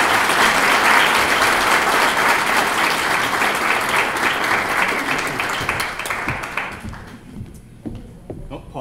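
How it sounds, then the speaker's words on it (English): A large audience at a business awards ceremony breaks into sustained applause, loud and dense at first, then thinning into scattered claps before fading out. "Let's give them one more round of applause."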